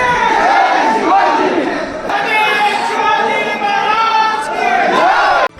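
Large crowd at the Sindkhed Raja palace during the Jijau birth anniversary, chanting slogans loudly and continuously, many voices overlapping in a dense, sustained roar with rising shouted phrases throughout.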